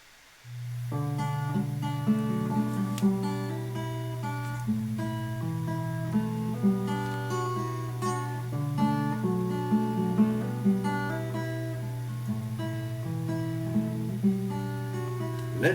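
A recorded song plays steadily at moderate volume, a sustained bass drone under a busy melodic line of plucked, keyboard-like notes with soft percussive accents throughout.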